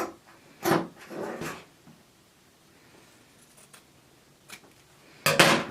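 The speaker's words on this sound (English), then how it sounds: "Got that little rectangle, and then we're just going to cut that out." Scissors cutting a small rectangle out of fabric for a headband, heard as a few short, close snips and rustles separated by quiet pauses, with a louder burst of handling at the end.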